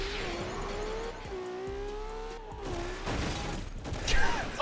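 A car in the Garry's Mod game drives and flips backward in a roleplay server, its engine a steady tonal drone with shifting pitch, then louder scraping and impact noises near the end, with no talking.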